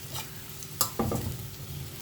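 Kanda poha with peanuts is stirred in a frying pan, giving a faint soft sizzle with one sharp scrape of the spoon and a short burst of stirring.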